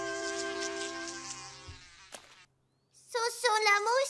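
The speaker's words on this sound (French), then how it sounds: "Je crois qu'on devrait laisser cette mouche tranquille." A cartoon fly buzzes in a whining, wavering drone in the French animated series Georges Rétrécit. It comes in after a sustained tone and a short pause, loud and close.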